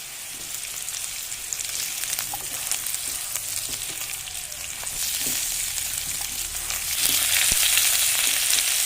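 Steady close-up sizzle of potatoes frying in a pan with onions, with occasional light scrapes and clicks, the hiss growing louder toward the end; no speech.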